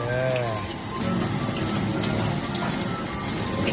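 Running clean water pours steadily for rinsing during washing, with a splashy broadband rush that continues throughout and a brief voice-like tone near the start.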